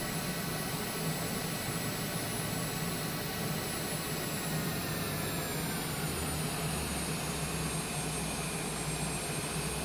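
Cessna Longitude jet engines spooled up in reverse thrust in MSFS 2024, a steady loud roar with a high whine and broadband rush, constant throughout with no speech.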